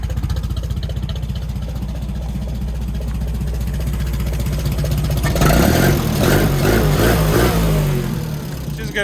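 An old tractor engine runs steadily after starting, a low rhythmic chugging that grows louder and rougher partway through as it is revved, close by and with no talk.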